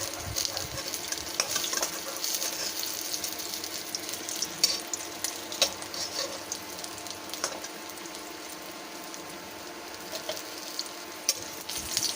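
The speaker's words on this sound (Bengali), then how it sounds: "মাছগুলো কড়া ভাজা হয়ে গেছে, এবার মাছগুলোকে আমি কড়াই থেকে নামিয়ে নিচ্ছি।" Crisp-fried fish in oil in a wok give off a continuous bright sizzle, punctuated by sharp clicks and scrapes of a spatula against the metal, with no voices.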